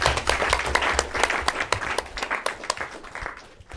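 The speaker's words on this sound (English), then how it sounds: "Applaud for the gentleman," Applause at an environmental law panel event: a smaller room of people claps in distinct sharp hits, strong at first and tapering off toward the end, with brief talk mixed in.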